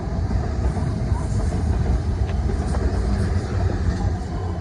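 Train 444045 passes through Clapham Junction with a loud, steady rumble and roar, rolling continuously close by with faint rail clicks underneath.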